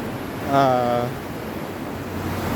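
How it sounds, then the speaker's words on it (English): Strong wind buffets the microphone on Karon Beach, a steady low roar throughout, with a brief human voice sounding near the start. "And the wind here is really strong."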